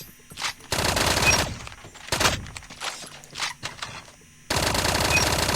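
Fennec gun firing in a video game in hip-fire mode: three loud, rapid full-auto bursts separated by gaps, with brief clicks and mechanical handling sounds between them.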